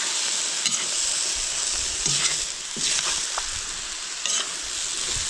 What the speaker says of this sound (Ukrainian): Все його обжарюємо.